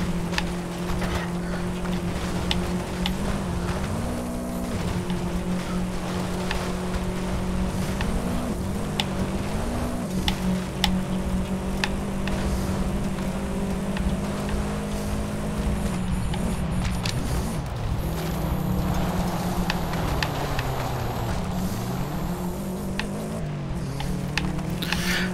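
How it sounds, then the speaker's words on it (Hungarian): The boxer engine of a Subaru 22B in the racing game Forza Horizon 5 drones steadily, its pitch sliding up and down with shifts and throttle changes, loud and continuous throughout. "Hát azért ennek a boxer motornak olyan hangja, hogy ezt nem lehet megunni."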